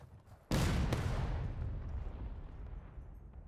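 A single artillery cannon booms in the American Civil War game War of Rights, one loud, deep blast followed by a long rolling rumble that fades slowly.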